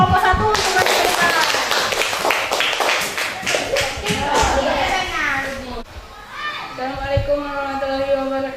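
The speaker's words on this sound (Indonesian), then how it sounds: "Coba kita kasih tepuk tangan untuk kelompok 1 untuk menceritakan." Classroom of children clapping briskly together for a presenting group, sharp claps layered with chatter and voices, trailing off into speech near the end.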